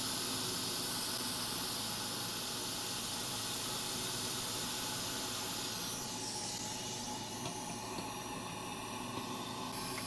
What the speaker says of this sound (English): We're gonna use hot air because hot tweezers will not be able to remove it